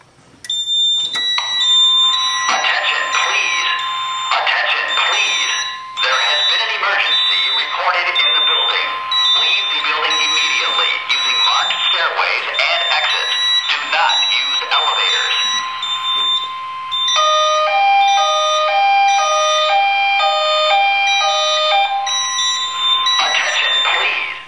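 A fire alarm sounds loudly and continuously, its electronic tone pulsing in repeated groups of three beeps with short pauses between sets.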